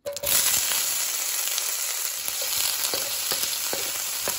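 Shrimp and imitation crab frying in a tablespoon of butter, a loud, continuous close sizzle and crackle from the first moment, with faint clicks of stirring.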